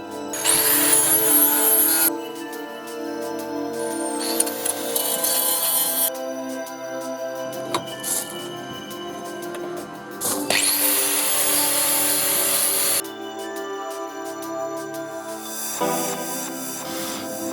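A power tool cuts a metal piece for a welding repair, loud grinding whine in several long passes broken by brief pauses, close and dominant throughout.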